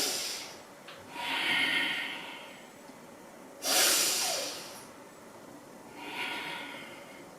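Three slow, audible breaths, each a soft rush of air, come close up in a seniors' yoga class during chair pose. They are separated by quiet pauses, with no talking.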